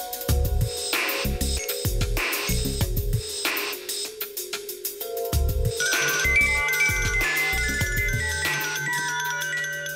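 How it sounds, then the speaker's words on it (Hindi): A phone plays a loud electronic ringtone in repeated melodic bursts, with a buzzing tone between phrases and a higher chiming melody toward the end, continuous and close, with no talking. "आपका फोन है"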